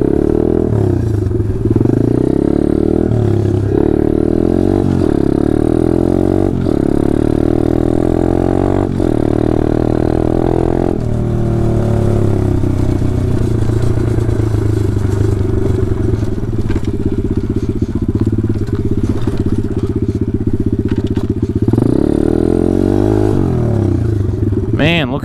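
A pit bike ridden hard over rough, washed-out ground beside a ravine: a loud, continuous engine drone that rises and falls with throttle, with rattling and clattering from the frame and a voice now and then.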